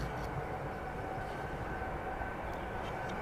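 A Ryanair airliner taxis out toward runway 09 at East Midlands Airport in the evening, a steady, distant broadband engine rumble and whine that holds evenly throughout without talk.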